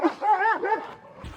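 A large dog in rural Portugal lets out a short run of deep, drawn-out barks and yowls, close and loud, lasting about a second with a faint thump at the end.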